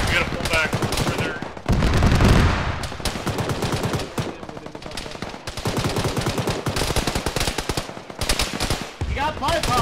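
Rapid bursts of automatic gunfire crackle through a first-person shooter match, sustained fire ringing out almost continuously with brief pauses, while players talk over the shooting.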